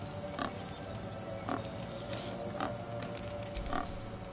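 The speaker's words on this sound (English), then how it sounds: "That pig is driving me crazy" Pig oinking in the Baldur's Gate 3 video game, four short grunting oinks spaced about a second apart over a steady ambient game background, with no talking.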